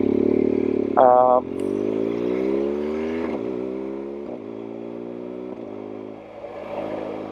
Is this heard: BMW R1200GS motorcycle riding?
yes